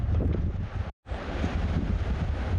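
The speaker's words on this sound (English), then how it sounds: "I don't know where all this wind came from." Gusty wind at an alpine lake in the Eastern Sierra, near Big Pine Lakes, buffets the microphone in a loud, rough rumble, broken by a brief cutout, with no voices.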